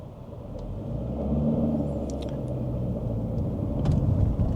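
Interior of an Omoda C5 1.5L turbo car while driving, a steady low engine and road rumble building gently, with faint rattles and ticks in the cabin.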